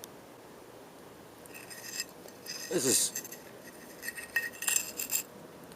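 Glass remnants clinking against soil and debris as they are dug up from the ground in a parking lot, giving brief, light chinks and rattles, with a short stretch of talk alongside them.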